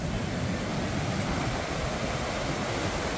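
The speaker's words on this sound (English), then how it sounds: "Look at them waves." Ocean surf pounding the coast near the Guajataca Tunnel in Isabela, Puerto Rico, a steady loud roar of breaking waves mixed with wind buffeting the microphone, with no break through the whole clip.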